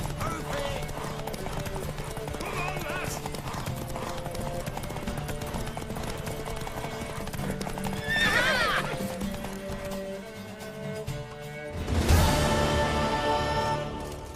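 A horse in The Witcher 3 video game gallops with steady hoofbeats, then gives a loud whinny partway through and another strong neigh near the end, with faint voices and game ambience underneath.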